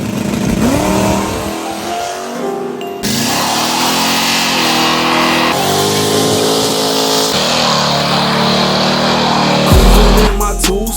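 A car engine revs loudly in a home garage, the motor sitting in a two-seater T-top car, with steady high-pitched engine roar filling the space and music playing alongside, shifting tone as the revs change.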